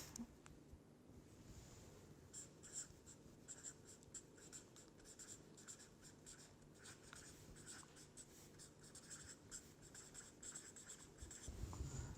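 Pen writing on paper in a steady, faint scratching stream of short strokes, close and continuous, with no talk over it.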